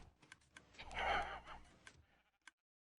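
A single Minecraft sheep bleats once, quiet and wavering, with soft clicks before and after and near silence at the end.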